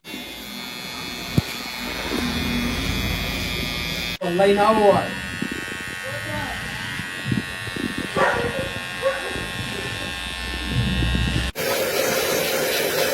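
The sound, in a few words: electric hair clipper at barber shop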